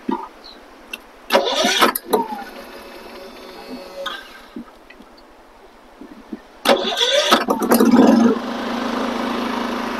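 A dual fuel generator fed propane from a barbecue grill tank is pulled over twice: two brief loud cranking bursts, the second catching into a steady engine drone, over faint background hum.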